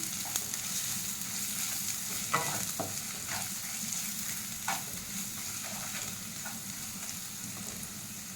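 Spice paste with salt and sugar sautés for prawn pulao, a continuous frying sizzle broken by several sharp stirring scrapes and clatters against the pan, no talk.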